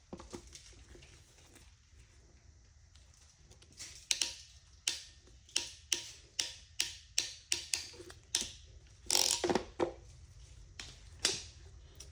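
Ratchet tightening the pump assembly of a Whirlpool dishwasher, a series of sharp close clicks in short rhythmic bursts with gaps between strokes.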